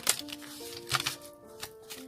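Tarot cards are shuffled in a few soft, riffling bursts, close and quiet, over a faint sustained musical drone.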